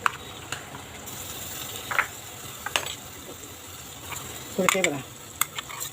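Green chilli and ginger-garlic paste fry in a pan with a soft, continuous sizzle and occasional scraping stirs and utensil clinks, while someone speaks briefly.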